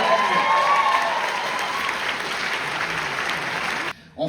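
Sustained applause from a large audience at a film festival closing ceremony, a dense steady clatter of many hands clapping that continues for several seconds, then cuts off abruptly near the end.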